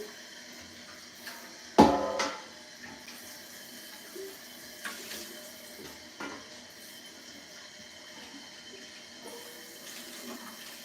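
A container is rinsed under a running kitchen tap while broth is made from frozen chicken scraps: a soft, steady water hiss with one sharp clunk near the start and a few faint knocks after.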